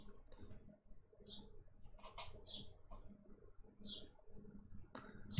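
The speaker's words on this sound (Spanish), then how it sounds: "Se oyen los pájaros de mi casa" Birds outside a house give faint, short chirps at irregular intervals against a low, steady background hum.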